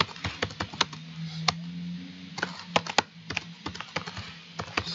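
Computer keyboard typing while entering a link in a software development environment, with irregular bursts of sharp key clicks and a few pauses, close and moderately loud over a faint low hum.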